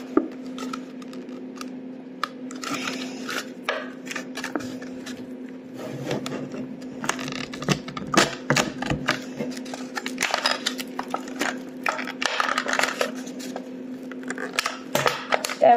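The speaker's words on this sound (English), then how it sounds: "now we need to get out the chisel and brush" A chisel taps and scrapes while a brush sweeps a toy gold dig set block, giving dense irregular clicks and scratches at close range over a steady hum.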